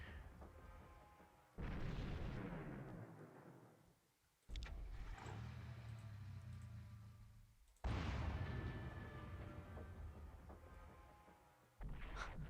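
Heavy artillery shots from the 1997 Windows strategy game Warhammer Epic 40,000: Final Liberation, fired at scenery: four loud booming blasts at steady intervals, each one's rumble decaying slowly until the next, with no talk.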